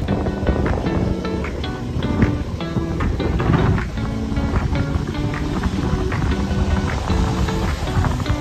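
Steady rain heard while riders wait it out on a trip to Mararison Island in Culasi, Antique, a continuous dense patter and hiss lasting the whole stretch with no talking.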